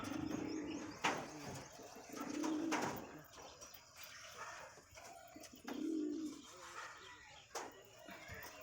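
Madras high-flyer pigeons with clipped wings, including a male, coo close by in several low, throaty bouts spaced a couple of seconds apart, while voices talk faintly in the background.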